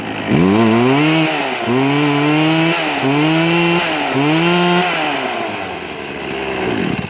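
A small Ryobi chainsaw engine, freshly repaired, revs loudly and close, rising and falling in four throttle surges before idling down, with a final rev at the end.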